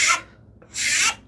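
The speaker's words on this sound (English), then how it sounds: "I can take one shot with the file" Two rasping strokes of a hand file across the end of a wooden board, each a smooth, loud scrape lasting about a quarter second, with a short pause between them and no voices.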